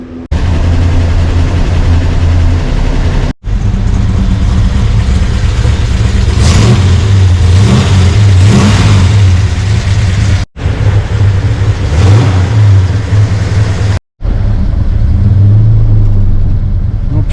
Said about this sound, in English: So let's get this thing down off the rack and let's get her fired up.